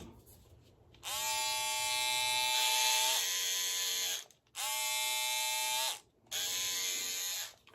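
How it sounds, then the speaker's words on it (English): Philips OneBlade electric razor buzzing close by in three bursts, a high harmonic whine that starts, holds for a few seconds, cuts out, then runs twice more with brief silent gaps between. "let's go with OneBlade. Much quieter sound to it."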